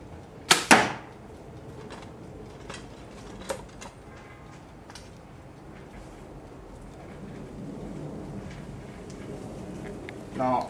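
An arrow is shot from a bow at a target 15 yards away, a sharp loud snap near the start, followed by quieter handling noises and faint talk.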